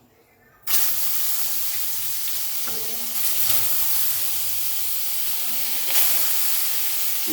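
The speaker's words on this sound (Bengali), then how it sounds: "আমি এবার মাছটা দিয়ে দেবো। মাছটা ভেজে নিচ্ছি।" Tangra fish frying in a spice masala of ginger, garlic, green chilli, chilli powder and turmeric: a loud, steady sizzle that bursts in suddenly and holds, with occasional clinks from stirring and no speech.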